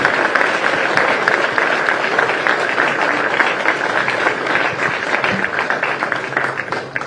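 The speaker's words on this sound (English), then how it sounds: "How about one more big round of applause for our country representatives and Lori." Sustained applause from a large outdoor crowd at the opening ceremony of a disc golf world championship, steady dense clapping throughout with faint cheers mixed in.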